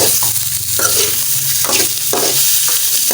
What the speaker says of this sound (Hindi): तो अब इसमें अंदर हमने ये मुर्गी के पीस है वो डाल देंगे और इसको भूनना है।